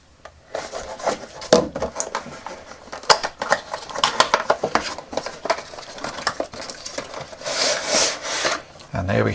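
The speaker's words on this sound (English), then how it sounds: "My knife here just to cut through some of the sticky tape" A knife slicing and scraping through sticky tape on a cardboard box holding a Hasbro 12-inch Stormtrooper figure, heard as a run of close, sharp rasping strokes and crackles.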